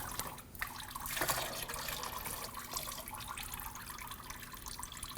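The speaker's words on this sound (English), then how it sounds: "Some coolant will come out of the hose, so be cautious." Coolant draining from a radiator hose on a 2013-2015 Subaru XV Crosstrek, a steady close trickle and splashing of liquid into a catch container, with a few brief knocks early on.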